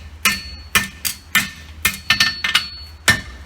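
A farrier's hammer striking a horseshoe on the horn of an anvil, about eight sharp ringing metallic blows at an uneven pace, close and loud with brief ringing tails.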